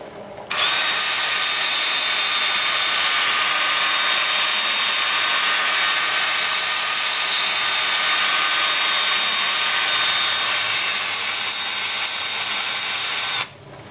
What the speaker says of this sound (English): Time for sanding.